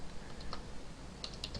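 Faint keystrokes on a computer keyboard while someone enters jQuery code, a few light clicks spread out and then a quick cluster near the end, over a low steady background hum.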